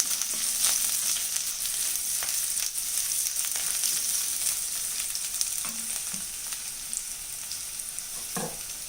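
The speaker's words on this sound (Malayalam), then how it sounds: "തേങ്ങാക്കൊത്തൊന്ന് ജസ്റ്റ് ഒന്ന് പച്ച മണം മാറുന്ന വരെ ഇളക്കി കൊടുക്കാം" Long-cut coconut slices stirred and fried in a pan, a steady close sizzle with scraping ladle strokes and occasional clinks against the pan, no voices.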